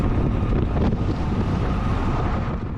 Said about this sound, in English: this side is pretty windy